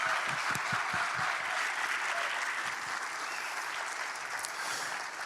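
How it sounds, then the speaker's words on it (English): A large crowd at a game developers' conference applauds the speakers, sustained hall-filling clapping that holds steady for several seconds with a few faint voices mixed in beneath it. "Can I get a huge applause for all of our speakers,"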